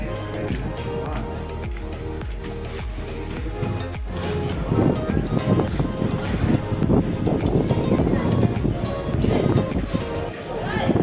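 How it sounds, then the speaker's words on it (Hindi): Strong wind gusting across a hillside at the Jivdani temple in Virar, heard as a steady, loud rushing roar with microphone buffeting throughout, growing heavier in the second half, with people talking underneath. "उधर बहुत तेज हवा आ रहा है।"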